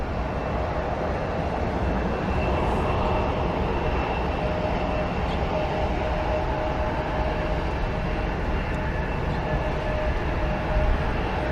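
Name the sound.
airplane at Columbus airport runway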